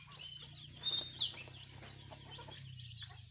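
Chickens cluck and squawk in short bursts over a steady low hum, with faint birdsong in the background.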